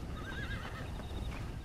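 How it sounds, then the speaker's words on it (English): Horse in the Red Dead Redemption Undead Nightmare video game gives a short, fairly faint whinny with a wavering pitch, over a steady noisy game backdrop with a soft hint of hoofbeats. "captured this horse here"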